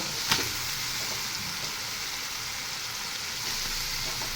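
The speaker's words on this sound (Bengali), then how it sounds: "কষিয়ে নিচ্ছি মশলার তেলটা উপরে চলে এসেছে এখন আমি মাংসগুলো দিয়ে নিব" Spiced oil sizzling in a pan with desi chicken meat, a steady, soft, even frying hiss that continues throughout with a small clink early on, heard alone without talk.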